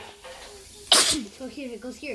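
A single loud, sharp sneeze bursts out in the middle, set against a Roblox game with a voice talking before and after it and faint game sounds underneath.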